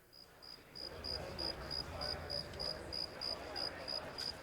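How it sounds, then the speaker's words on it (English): Crickets chirp indoors in a quiet room, a thin high-pitched trill pulsing in a steady rhythm of short bursts, faint against a soft background hum. "You have crickets indoors."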